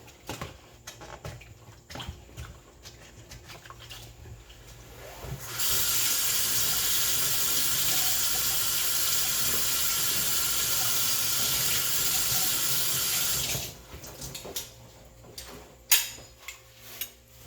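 A kitchen tap runs steadily for about eight seconds as food is rinsed under it, a broad loud hiss that starts and stops abruptly, with quieter kitchen handling noises before and after.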